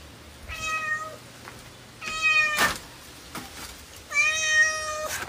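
A cat meows three times in drawn-out, harmonic cries spaced about two seconds apart, close and fairly loud, with light handling clicks between calls and no talking.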